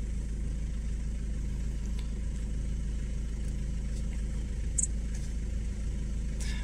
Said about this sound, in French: maintenant on va démarrer le véhicule